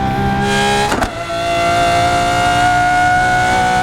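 Lamborghini Aventador SVJ engine screaming at high revs down the Nürburgring straight, a loud sustained whine that holds steady after a brief dip near one second, up close and alone.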